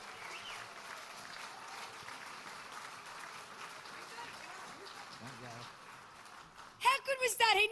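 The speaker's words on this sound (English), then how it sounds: "He needs another round of applause." A crowd at a phantom horse race-calling event applauds its 82-year-old race caller, a sustained wash of clapping. Voices and a sharp burst of cheering break through near the end.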